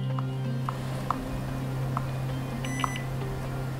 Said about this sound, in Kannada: ಒಂದು ಬೀಪ್ ಸೌಂಡ್ ಕೇಳಿಸುತ್ತೆ.